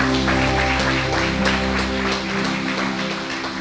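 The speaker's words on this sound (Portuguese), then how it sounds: "Vamos aplaudir a Jesus." A church congregation at a Sunday service applauds together, dense continuous clapping filling the room, with a sustained musical tone underneath that fades partway through.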